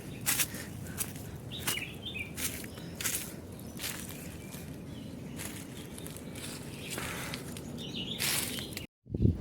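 Melodious whistling calls from a bird on a hillside, several bright chirps spread across the span over a steady outdoor rustle, with a few footsteps or handling knocks and a brief cut near the end.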